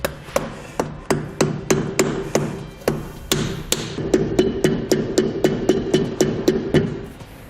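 Rapid, evenly spaced metallic taps as a grease cap is hammered into place on an Easy Grease trailer hub, around two dozen sharp close strikes in steady rhythm with no talk.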